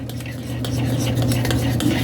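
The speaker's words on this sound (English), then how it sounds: "So I'm just stirring it up." Homemade hair conditioner with rosemary powder stirred briskly in a bowl, a steady close scraping and clinking of a utensil against the container with no talking.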